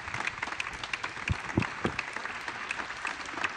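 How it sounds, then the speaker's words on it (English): Applause rings out for newly returned astronauts after a Blue Origin spaceflight carrying Jeff Bezos, a dense spread of claps and a few louder whoops from a crowd at a press event, steady for the whole stretch with no speech. "Let's give another round of applause to our amazing, newly minted astronauts."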